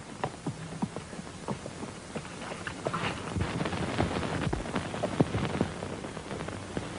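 Irregular hoof clops patter over a steady rain-like hiss, several horses moving at a walk, moderately close.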